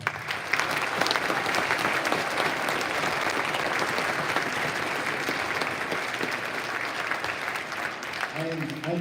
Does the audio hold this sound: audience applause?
yes